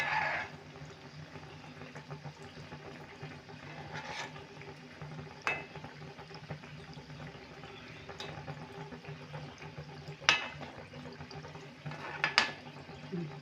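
Gulab jamun made from khoya kheer fry slowly in oil over a medium gas flame, giving a soft, steady bubbling hiss broken by occasional light clinks of a utensil stirring the pan.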